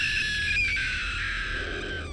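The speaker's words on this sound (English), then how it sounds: "I heard the blood-curdling scream of my girlfriend." A woman lets out a high, sustained, blood-curdling scream, a single piercing cry lasting about two seconds and fading slightly at the end.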